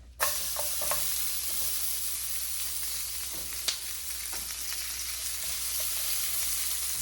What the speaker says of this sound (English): I'm gonna add the peppers